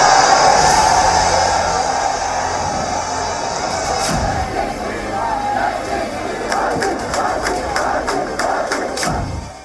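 An angry protesting crowd over a court verdict in a decades-old sexual abuse case, with loud massed shouting and chanting throughout, slogans rising in waves and scattered sharp cries.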